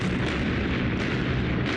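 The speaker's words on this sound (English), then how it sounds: "The sound of the explosion could be heard for miles." Demolition blast bringing down two six-story 1940s buildings in Bayonne, New Jersey, heard as a dense, sustained rumbling roar throughout, loud, with no talking.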